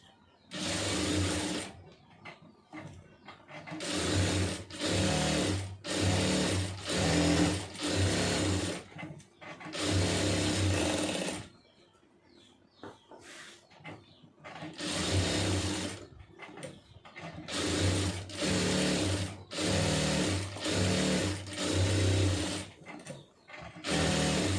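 Domestic sewing machine stitching fabric with small stitches, running in bursts of rapid, steady mechanical chatter separated by brief pauses, close and fairly loud with no talking.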